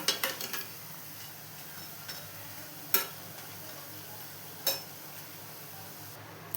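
Murukulu fry in hot oil with a steady, even sizzle, broken by a few sharp metallic clinks and scrapes as the pieces are turned with a ladle.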